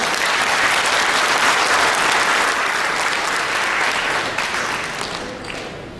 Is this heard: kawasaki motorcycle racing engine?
no